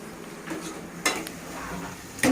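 Tomatoes sauté in a pan, a soft sizzle under scattered scrapes and clinks of a spoon stirring against the metal, with a sharper knock near the end.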